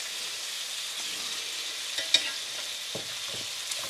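Porkchop and steamed tortillas sizzle in a hot pan, a continuous frying hiss with a few light clicks and taps from stirring.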